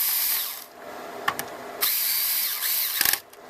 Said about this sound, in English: Now that we've got that, we'll screw in the screws.